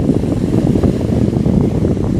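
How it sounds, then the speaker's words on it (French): Steady, loud rushing wind picking up ahead of a thunderstorm over the sea buffets the microphone with a broad roar and no voices. "Il y a du vent qui se lève en tout cas."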